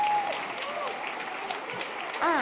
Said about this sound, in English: Can we please have a massive round of applause for our wonderful judges